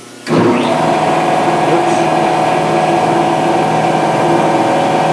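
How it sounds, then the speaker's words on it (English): An air compressor beside a Maka mortiser kicks on abruptly and runs loud and steady with a constant droning hum close by. "That's the air compressor. It's pretty loud."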